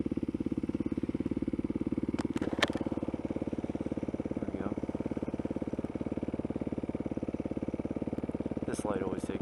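Motorcycle idling in neutral at a traffic light, a steady low rapid thumping pulse that stays even throughout, loud and close, with a few brief faint sounds on top.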